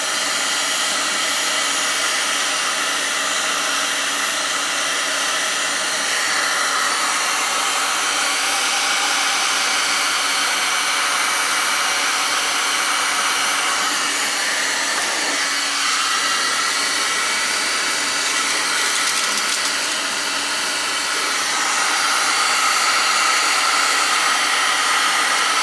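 A heat gun blows a steady, loud broadband hiss while heating a wooden part of a cuckoo clock during repair, continuous across the whole stretch with only slight shifts in tone.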